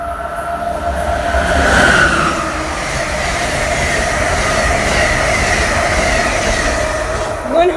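A train passing through Bowie station, a loud, continuous broadband rumble of rolling cars with faint wheel squeal, steady and close throughout.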